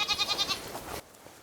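Goats on a remote, windswept island bleat in a quick run of nasal, wavering calls that fade out partway through, leaving a quiet stretch behind.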